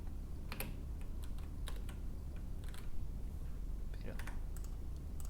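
Quick typing on a computer keyboard, sharp irregular key clicks over a steady low background hum, with no talk in between.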